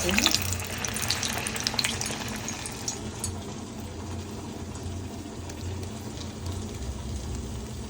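Jaggery vadas frying in hot oil make a continuous close bubbling hiss, a little busier at the start and then settling into an even sizzle.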